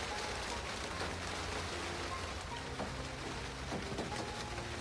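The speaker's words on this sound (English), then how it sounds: "Like this with the sound of the rain." Steady rain falls in a dense, continuous wash of noise with scattered drop patter, even and unbroken throughout, serving as ambient sound in a visual novel.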